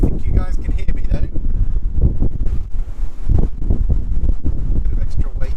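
Wind rushing into the open cabin of a 2018 Mercedes C300d cabriolet with the roof down and the wind deflector up, a loud, constant roar of airflow while driving, with a voice talking over it.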